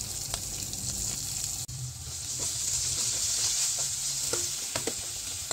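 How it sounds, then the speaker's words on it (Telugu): Spices frying with asafoetida, then curry leaves and coriander, for tamarind tomato rasam: a loud, continuous hissing sizzle with small crackles and brief stirring knocks, heard alone without speech. "ఇవి కొంచెం ఫ్రై అయినాక కరివేపాకు, కొత్తిమీర వేసుకొని ఒకసారి కలుపుకోవాలి."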